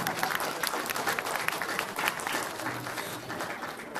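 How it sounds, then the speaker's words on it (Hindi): An audience at a film poster launch event claps together, a thick, sustained roar of many hands that stays fairly even throughout with slight rises and dips. "एक जोरदार तालियां विजय सिंह गुटाई के लिए और एक जॉय जनवी के लिए"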